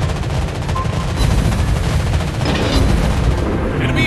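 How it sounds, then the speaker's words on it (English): Anti-aircraft guns on a ship in World of Warships Blitz fire in a continuous, rapid stream of loud, near bursts, with heavier booms and battle noise filling the whole stretch and no talk over it. "Anti-aircraft gun on full alert."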